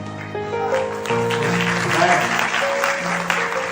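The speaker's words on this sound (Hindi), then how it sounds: "ताली बहुत कम बज रहा है" Clapping from a congregation at a prayer meeting, steady and moderately loud, mixed with sustained keyboard or organ tones throughout.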